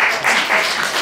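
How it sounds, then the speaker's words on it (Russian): An audience at a comedy concert claps steadily for a woman's eighteenth birthday, a dense, even wash of applause with no voices over it for about a second. "Аплодисменты, пожалуйста."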